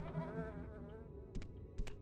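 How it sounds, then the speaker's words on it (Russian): Flies buzzing in Morrowind Tamriel Rebuilt, a close, wavering insect drone lasting about two seconds, with a few short clicks near the end. "Мерзкие мухи."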